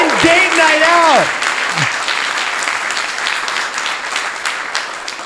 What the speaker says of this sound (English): quick round of applause for the new parents in the audience